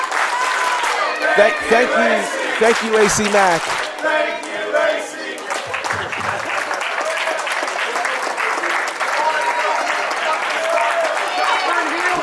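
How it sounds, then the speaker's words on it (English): Crowd at an AC Mack vs Nick Halen battle rap event cheers and applauds loudly throughout, with shouts and whoops mixed into the clapping and a voice speaking over the noise early on. "you hear this crowd cheering and saying exactly what we all feel."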